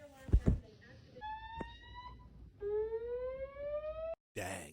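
A building fire alarm sounds in an apartment complex, with steady electronic tones that sustain and shift, preceded by a few loud knocks and followed by a burst of noise.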